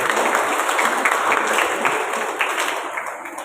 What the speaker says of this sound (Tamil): அன்போடு கைத்தட்டி நீங்கள் மணமக்களை சற்று வாழ்த்தினால் நன்றாக ஒரு கையோடு கரத்தட்டி ஒரு ஓட்டம்.